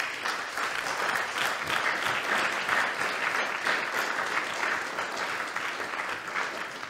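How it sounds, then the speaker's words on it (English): An audience at an anniversary event claps continuously, a full, even patter of many hands filling the room at moderate volume with no speech over it. "and they're clapping."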